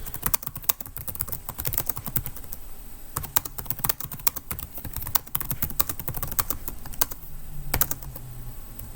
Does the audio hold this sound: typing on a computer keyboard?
yes